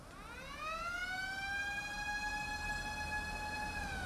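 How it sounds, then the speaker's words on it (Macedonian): Fire engine sirens wail during a street parade for firefighters' day, a steady rising and holding electronic tone, fairly distant and moderately loud over low traffic noise. "Ја уклучија и сирената, но овој пат за да отпоздрават"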